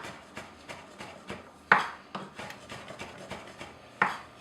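Herbs being chopped with a knife on a board: a quick, fairly regular run of soft, close taps, with two sharper, louder strikes among them.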